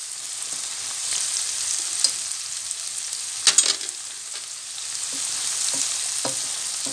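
Leek and spring onion sizzle steadily in a pan, a close, bright frying hiss broken by a few soft stirring clicks and scrapes.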